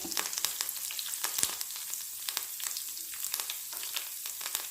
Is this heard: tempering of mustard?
yes